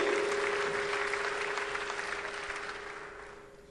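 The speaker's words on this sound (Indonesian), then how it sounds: "Tepuk tangan lebih meriah lagi, haleluya." A church congregation claps enthusiastically in praise, a dense wash of applause over a steady sustained tone from music or sound system, gradually tapering off over a few seconds.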